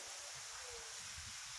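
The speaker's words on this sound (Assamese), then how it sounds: "গছ চছ লৰি আছে, বতাহ" Wind stirs the trees outdoors, making a soft, steady, broadband rustle that keeps up without a break. It stays faint and even throughout, with no talk over it.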